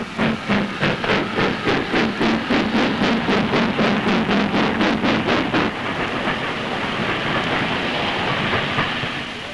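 The LNER Silver Jubilee streamlined steam train runs fast near 104 mph on a trial run from King's Cross, a steady rhythmic chuffing beat giving way to a smoother, continuous rushing roar; loud and close throughout.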